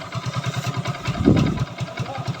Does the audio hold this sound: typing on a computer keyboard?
no